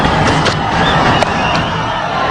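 Dense, loud crowd roar at an India vs Australia cricket match in a packed stadium, a continuous wall of voices with a few sharper shouts and cheers rising through it.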